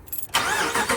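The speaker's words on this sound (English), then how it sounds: "Engine sounds like a champ." A car engine cranks briefly and catches, then roars into a steady, loud running sound close by.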